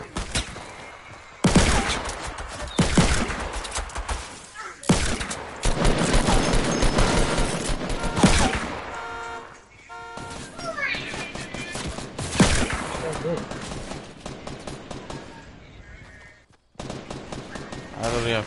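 Rapid bursts of gunfire in Fortnite Battle Royale come in loud, repeated volleys spread across the stretch, with short gaps between them and quieter game sounds and voices in between.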